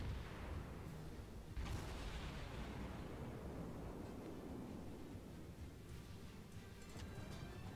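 Heavy naval gunfire from the cruiser USS St. Louis in the World of Warships game: a loud booming salvo at the start with rumbling, sustained battle noise and further blasts echoing throughout.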